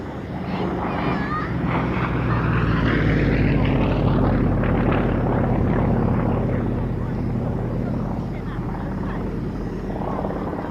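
A single-seat propeller aircraft of over 300 horsepower drones steadily overhead at an airshow, loud and continuous with a slowly shifting pitch as it passes. An announcer talks over the engine noise.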